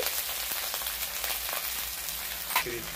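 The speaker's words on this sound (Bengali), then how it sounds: "তো আমি মশলাটা কষিয়ে নিচ্ছি" Spice paste of ginger paste, turmeric and chili powder sizzles steadily in hot oil in a pan, a close, continuous crackling hiss with no voices.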